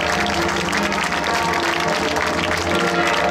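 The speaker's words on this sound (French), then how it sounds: "Je crois qu'on peut applaudir Jean-Luc Boulard." An audience claps at a speech ceremony for the 50th anniversary of the Saint Fiacre celebration, a dense, sustained burst of many hands clapping together at steady loudness throughout, with no voice over it.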